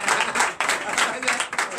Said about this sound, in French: je demande à chacun d'applaudir très fort